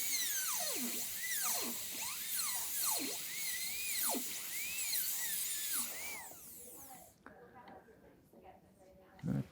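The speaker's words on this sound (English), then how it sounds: "walk that chamfer diamond up the surface of the tooth, creating a long," A dental drill fitted with a chamfer diamond bur whines through repeated rising and falling sweeps as it shapes a chamfer margin on a tooth for a PFM crown, then stops.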